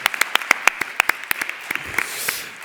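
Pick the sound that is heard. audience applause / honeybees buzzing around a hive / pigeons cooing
audience applause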